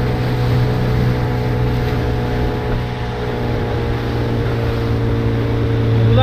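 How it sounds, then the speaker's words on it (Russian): Strong wind of about 11 metres per second buffets the microphone over a steady, droning boat engine on Lake Janisjärvi, Karelia, with waves washing beneath. The noise stays loud and constant throughout. "Волна сильная. Ветер сильный поднялся."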